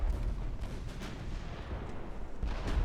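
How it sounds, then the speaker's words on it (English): A torpedo strikes a warship in the naval battle game Ultimate Admiral Dreadnoughts, giving a dense, rumbling roar of low booms and blasts that rolls on steadily for a few seconds with no letup. "Oh, another torpedo hit."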